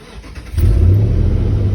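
A 2005 Dodge Ram engine cranks and fires up close, a sudden loud catch about halfway through settling into a steady deep idle rumble.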